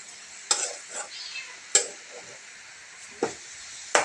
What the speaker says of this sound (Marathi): मंद आचेवर भाजून घ्या आणि पहिल्यांदा तुपावरती घ्या, जेणेकरून नारळ नाही खाली लागला पाहिजे या हिशोबाने